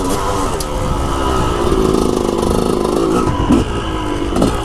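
Motorcycle fitted with a Lectron carburetor revving at high elevation: a loud, close engine note that rises and holds, with rough clattery bursts as the throttle is worked.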